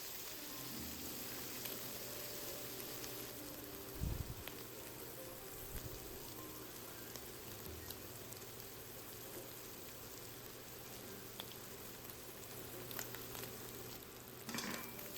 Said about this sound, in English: Add in the marinated shrimp and stir fry for about 1 minute.